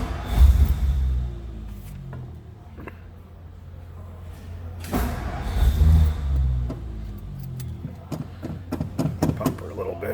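Engine of a 1957 Ford Fairlane 500 convertible cranking and catching in low rumbling bursts, idling roughly between attempts, with a few sharp clicks and knocks toward the end.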